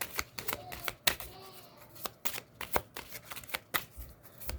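Tarot cards being shuffled, a rapid run of crisp riffling slaps and flicks close up, fairly quiet, with no one talking.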